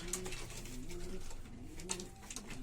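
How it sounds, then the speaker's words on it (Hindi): Soft, low cooing of a Madrasi pigeon repeating in short rounded phrases, quiet and close, with faint background noise. "ये कबूतर है भाई"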